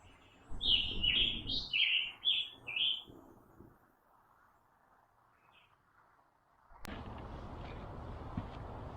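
Birds chirp in a quiet forest in Harriman State Park, New York, where a quick run of about six bright, close tweets opens the clip. Near-silence follows, then a steady rustle of wind or movement.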